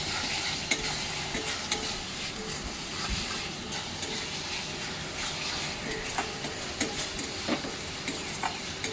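Spice paste for prawn malai curry sautéing in hot oil: a constant soft sizzle and hiss, broken by sharp ticks and clicks of a stirring spoon against the pan, with no voices.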